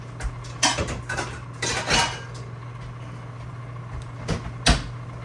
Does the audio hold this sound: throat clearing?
no